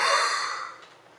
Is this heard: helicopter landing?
no